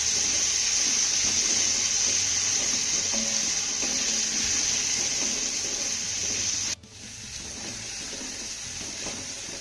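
Chopped tomato and onion sauté in a pan with a steady, bright sizzle and soft stirring scrapes, loud and close, cutting abruptly partway and then continuing a little quieter.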